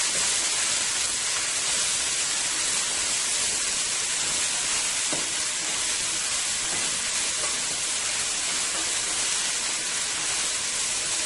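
Scallion and eggplant sauté in a pot, a dense, even sizzling hiss holding steady throughout at close range, with a couple of faint utensil knocks.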